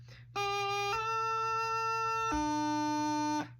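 A reedy bagpipe practice chanter plays three sustained notes in a row, stepping between pitches with crisp, quick thumb gracenote transitions, clear and close.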